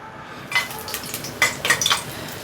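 Cinnamon sticks drop into hot oil in a pressure cooker, setting off a few quick sizzling bursts and light metallic clinks, close and short.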